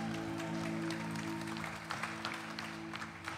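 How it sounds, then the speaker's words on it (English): A church congregation applauds the band at an Easter Sunday service, fairly faint clapping over a low sustained organ or keyboard tone, with the claps growing more scattered toward the end. "Should we give them all a massive round of applause?"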